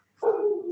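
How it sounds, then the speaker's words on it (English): A single close dog bark, loud and slightly drawn out into a short whine-like tail, standing alone in a quiet room. "I'm so sorry about my dog"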